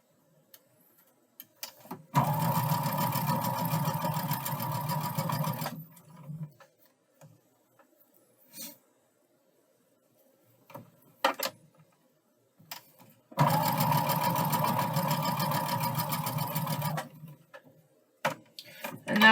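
A sewing machine stitching quilt pieces together runs in two steady bursts of about three seconds each, a rapid mechanical whir. Quiet gaps with small clicks and handling noises separate the bursts.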